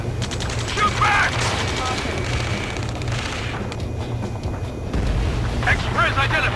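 Gunfire erupts in an Ace Combat 7: Skies Unknown rescue mission, dense bursts and booms rolling continuously under shouted voices of soldiers calling out over the battle.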